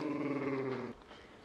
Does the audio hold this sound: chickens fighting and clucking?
no